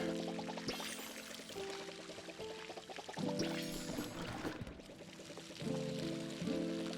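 In the Palia video game, a fully upgraded watering can pours over garden plants in a steady liquid trickle. Layered chime-like musical tones ring over it throughout.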